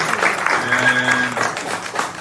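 Short burst of audience applause at a tribute ceremony for the Racing Club Haitien, many hands clapping at a steady level with a faint voice or tone underneath.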